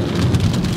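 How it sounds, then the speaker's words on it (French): Heavy rain pouring down hard in a downpour, a dense continuous roar of drops, loud and close with no voices. "il pleut mais à verse"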